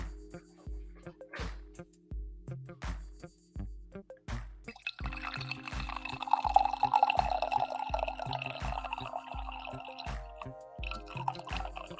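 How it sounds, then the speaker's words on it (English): Coffee is poured into a cup, a thin liquid trickle that rises into a brighter filling sound partway through, set against a steady repeating low thump in the background. "Let's pour some coffee."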